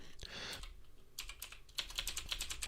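Close, steady tapping on a computer keyboard while writing Java code, with a burst of keystrokes, a short pause, then a quicker run of clicks; no talking.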